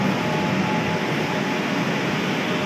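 Kolkata East-West Metro train between Sealdah and Salt Lake, a dense, steady roar and hum heard from inside, loud and even throughout, with no talking.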